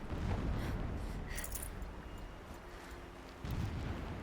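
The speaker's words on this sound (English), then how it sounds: "Explosions in the distance." Low, rumbling booms roll on steadily in the distance, a deep continuous thunder of far-off explosions in the video game Horizon Zero Dawn, with a brief swell near the end.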